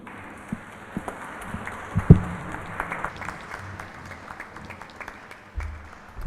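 An audience at an endowment lecture series applauds after the lecture, scattered, fairly faint clapping in a large hall, uneven and thinning out.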